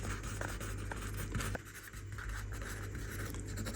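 A pen scratches steadily across paper as a list is written down, close and quiet, with a short pause partway through.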